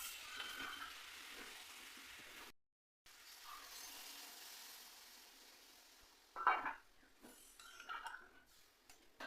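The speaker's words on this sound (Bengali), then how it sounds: "এবার আমরা অল্প অল্প করে জল দিয়ে দেবো।" Water poured a little at a time into frying meat curry raises a loud hissing sizzle, joined by clinking spoon-and-pan stirring sounds, the sizzle flaring and fading over several seconds.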